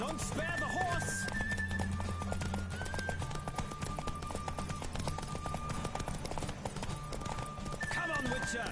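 Rapid clip-clopping hoofbeats of a galloping horse in The Witcher 3 video game with occasional whinnies, under a voice speaking over the running rhythm.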